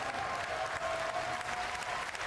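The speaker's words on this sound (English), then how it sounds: "Give him another huge round of applause." Steady crowd applause fills a large arena after the BlizzCon 2011 StarCraft II final, a continuous dense roar of clapping heard without a break.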